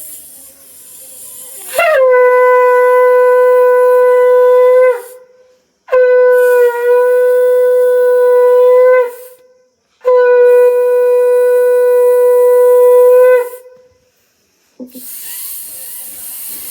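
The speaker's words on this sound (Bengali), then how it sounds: "এবার শাঁখটা বাজিয়ে নেবো" A conch shell blown during a home puja, three long sustained blasts with a steady tone and rich harmonics, each lasting three to four seconds and separated by short breaths, loud and close.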